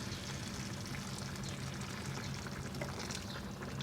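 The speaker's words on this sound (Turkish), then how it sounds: "Kettle'da kaynattığım sıcak suyumdan 2 su bardağı kadar ilave ediyorum." Hot water from a kettle is poured into a pot of potatoes and green beans, a soft continuous pouring and bubbling wash, fairly quiet and steady throughout.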